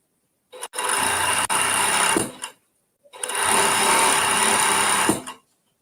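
A sewing machine stitches stretch fabric in two bursts of steady whirring, each about two seconds long, separated by a short pause, close and clear with no talking.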